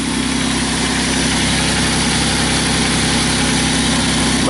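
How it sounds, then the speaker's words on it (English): A 2004 Chevy Impala engine idles steadily and loudly up close after a 60 amp fuse fault was fixed, giving a constant low rumble with vibration and no voices. "Engine is running now."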